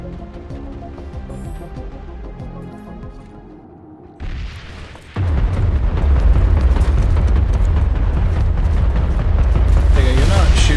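Sustained heavy automatic anti-aircraft gunfire in the online shooter Planetside 2, a loud dense rumbling barrage that kicks in midway and keeps roaring over game music and explosions, with people talking over it.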